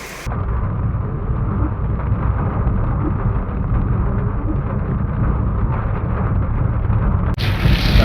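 Heavy rain pours steadily in a rainforest, a loud, dense, continuous roar of downpour with no break, ending abruptly.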